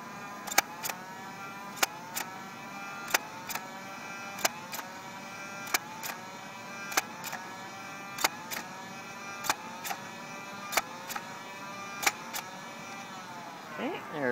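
A Nerf Rayven blaster fires Elite darts from its 12-round magazine: about ten sharp, evenly spaced pops, each followed by a brief whir of the motor, and a faint priming rattle at the end. The shots sound close and clear against a quiet room.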